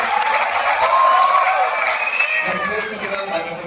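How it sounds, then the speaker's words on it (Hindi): Crowd applause in a university auditorium at a TEDx-style event, a dense wash of clapping with some cheering that fades gradually, a voice talking over it toward the end. "एक बार जोरदार तालियां for this।"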